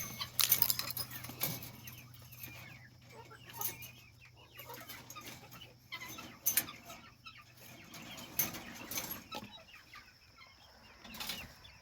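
Chickens cluck and scratch around at close range during feeding chores, soft irregular clucks with rustling and jangling bits, no steady talk over them.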